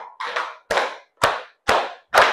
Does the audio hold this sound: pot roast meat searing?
no